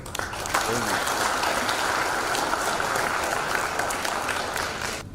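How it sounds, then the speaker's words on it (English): Steady audience applause at a seminar for the Minister and the Speaker, dense, sustained clapping of a sizable crowd holding an even level for about five seconds before tapering slightly at the end. "Let us give a round of applause to the Minister and the Speaker."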